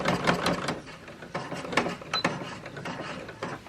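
A treadle sewing machine runs in a quick, uneven mechanical clatter of ticks and whirs close by, its rhythm rising and slowing as the pedal is worked.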